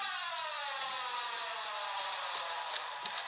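A continuous wailing siren from the Siren Head creature in a foggy horror video game, loud and steady throughout with slight pitch sweeps, no speech over it.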